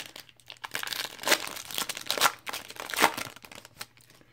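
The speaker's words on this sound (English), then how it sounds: "here's our six packs we got, and let's get to ripping" Foil Prizm basketball card packs, 2017-18 retail blaster packs, being torn open: bursts of crinkly tearing and crumpling around 1.3, 2.2 and 3 seconds, close and fairly quiet, with softer rustling between and no talk.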